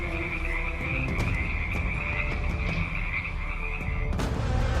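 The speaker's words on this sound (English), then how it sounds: "Frogs." A chorus of frogs croaks steadily and loudly in an unbroken wall of overlapping calls, with sharper individual croaks popping out along the way.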